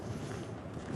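Wind gusts steadily across the open Mongolian steppe, buffeting the microphone with a loud, continuous low roar for a short stretch, with no talking.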